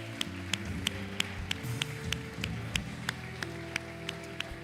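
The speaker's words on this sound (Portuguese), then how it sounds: "Louve o Senhor com as suas palmas" Sharp, regular hand claps from a church congregation, about three per second, sound over sustained low musical tones, with a steady rhythm throughout.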